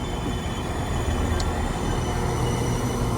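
A Northern Ireland Railways train, bound for Bangor, moves through platform 5 at a station, making a loud, continuous rumble of wheels and engine close by, with a brief faint squeal partway through.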